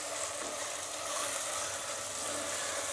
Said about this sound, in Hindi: अब इसमें कीमा ऐड कर देंगे और इसको फ्राई कर देंगे 5 से 7 मिनट के लिए तेज़ आँच पर